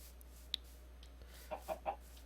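Three short clucks from video game chickens in quick succession near the end, after a brief high chirp, over a faint steady hum.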